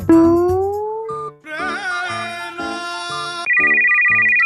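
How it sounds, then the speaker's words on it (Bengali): Mobile phone ringtone playing loud and close, a bright synthesized melody with a rising swoop, then rapid repeated chiming notes and a sustained high beeping tone at the end; nobody speaks. "এক সেকেন্ড, ফোন আইছে"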